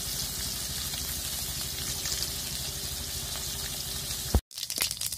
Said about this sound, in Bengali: মাছগুলো লাল লাল করে ভেজে নিচ্ছি